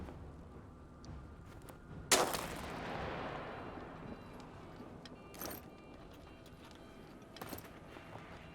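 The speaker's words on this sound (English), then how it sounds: "The sniper shot me." Sniper fire in the war survival game This War of Mine: one loud sharp crack with a long rolling echo, then fainter distant shots and clicks.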